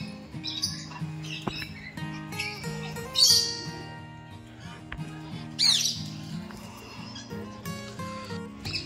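Wild parakeets in a large aviary at a wildlife sanctuary squawk in loud, harsh bursts over a steady chatter of other birds, with two especially sharp calls standing out near the middle.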